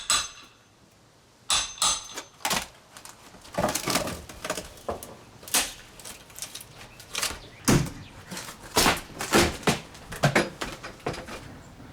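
An old front door frame is being pried and knocked out, giving repeated loud, sharp wooden bangs and knocks at an irregular pace. Scraping and creaking can be heard between the blows, all close to the microphone.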